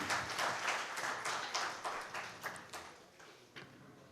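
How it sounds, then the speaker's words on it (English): Applause from the audience at a two-day tax conference starts as a brisk patter of claps, then thins into scattered, separate claps that fade away. "Let's have the applause going."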